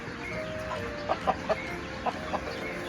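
A chicken clucks in a handful of short, separate bursts at close range against a low outdoor background hum, with no talking.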